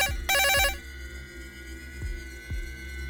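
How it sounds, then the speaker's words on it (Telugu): A phone rings with a short, bright electronic tone burst, followed by a few soft low thumps under a faint steady hum. "ఫోన్ మోగుతుంది కానీ ఏ నెంబరు కనిపించటం లేదు"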